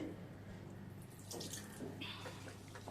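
Water poured from a tap into an egg cutlet mixture in a home kitchen, a steady close splashing and trickling that runs throughout with slight surges, no talk over it.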